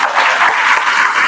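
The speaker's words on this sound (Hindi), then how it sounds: "वे सरिता जी और सुषमा जी, दोनों के लिए भी जोरदार तालियां।" Loud, steady applause from an audience at a school Independence Day event fills a short stretch, honoring teachers Sarita and Sushma, with dense clapping throughout.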